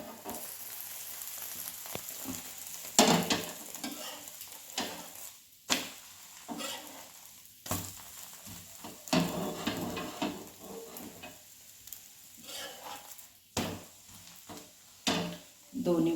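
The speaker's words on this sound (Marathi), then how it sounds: "तर दुसऱ्या बाजूने भाजून घ्या पोळी" An egg flatbread (anda poli) roasts in a pan, giving a soft intermittent sizzle with scattered clinks and scrapes, while someone talks over it.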